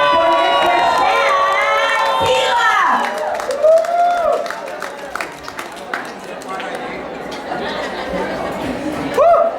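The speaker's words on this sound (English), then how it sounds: "give this man and his family the biggest round of applause that he would have ever heard" A large crowd cheers and shouts loudly, with scattered clapping and high excited voices, the roar dipping midway before swelling again.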